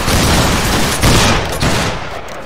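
A massed musket volley from a line of troops in the video game Battle Grounds III, a loud, dense crackling fusillade that fills the moment and then tapers into a ragged tail.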